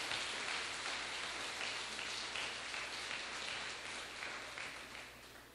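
Sustained applause from a church congregation during a sermon, a dense, even wash of clapping that fills the room and slowly tapers toward the end, with no voices over it.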